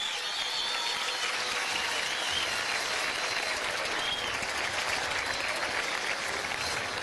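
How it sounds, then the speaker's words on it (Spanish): Sustained applause from an audience at an outdoor political gathering in a Caracas park acoustic shell, steady and dense clapping filling the whole stretch with no pause. "vamos a darle un aplauso"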